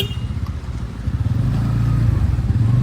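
A motorcycle being ridden, heard as a steady low engine drone that swells slightly with throttle, close and loud with a rushing background.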